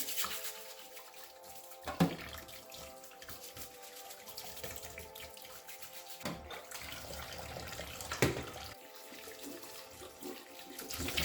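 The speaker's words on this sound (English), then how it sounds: "You guys know how I wash this stockfish to wash off the dust from the display at the market" Stockfish being rinsed under a running tap in a sink to wash off market dust, a steady flow of water with a couple of sharper splashes and knocks, fairly close and with no one talking.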